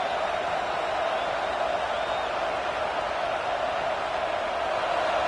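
Football stadium crowd at a college game between Georgia Tech and Georgia rising up, a dense steady roar of many voices, broad and distant-sounding, holding level throughout without clear talk.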